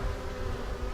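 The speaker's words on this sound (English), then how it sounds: "all those bees might just come flying out of that beehive." Honey bees buzz at a hive entrance, a steady low droning hum with a continuous rustly hiss close by and no voices.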